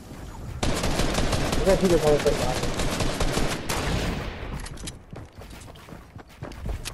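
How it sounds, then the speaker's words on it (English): Sustained automatic gunfire in a squad shooter video game, a loud continuous rattle of rounds for several seconds, then scattered single shots as it tapers off, with a voice speaking briefly. "Yeah, they're firing at me."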